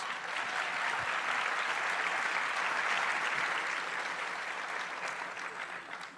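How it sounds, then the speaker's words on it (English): A packed live political event crowd applauds, a broad sustained roar of clapping filling the whole stretch, steady and somewhat distant before easing off slightly at the end. "I think that deserves a little applause."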